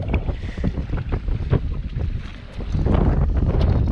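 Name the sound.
strong wind blowing while fishing from a boat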